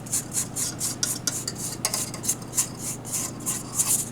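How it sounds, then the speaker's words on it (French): A spatula scrapes a powder mixture around the inside of a bowl for edible lace, rhythmic rasping strokes repeating about twice a second over a low motor hum, close and clear. "on vient corner avec une spatule, peu importe, pour intégrer la poudre dans le mélange"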